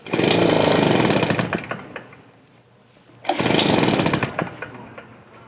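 A Poulan Pro PR46BT backpack blower with a carburetor that bogs runs loud and close, roaring at high speed, dropping to a low idle, then revving back up to a full roar.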